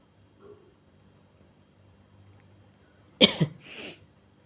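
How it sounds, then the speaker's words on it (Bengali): A person coughs a few times in quick succession during a Bengali gaye holud wedding celebration, a short loud burst after a long quiet stretch with faint background sounds. "আমার যখনই কাশিটা আসছে একটু চুপ করে যেতে হচ্ছে"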